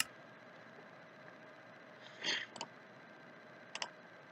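Computer mouse clicks during a Minecraft session: a quick pair of faint clicks, a third shortly after, then a brief double click later, each short and crisp over a quiet room hiss.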